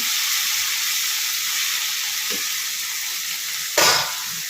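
Spice paste (masala) sizzles steadily while being fried and stirred in a pan, a continuous hiss with a brief louder scrape of the spoon near the end; no one speaks.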